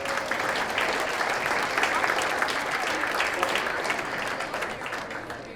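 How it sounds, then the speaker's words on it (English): Audience applause at a birding competition awards brunch, a full sustained burst of many hands clapping at close range, easing slightly toward the end. "a nice round of applause for all the mothers out there"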